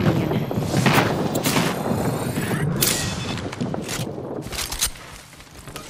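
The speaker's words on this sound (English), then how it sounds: "Heads up. Got an airstrike coming in." An airstrike in the video game Apex Legends hits as a dense barrage of loud, rapid booming impacts, fading slightly toward the end.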